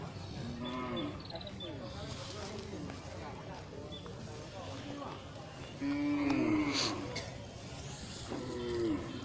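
Angus cattle moo several times at a livestock market, low drawn-out calls rising over steady background noise while a person talks throughout.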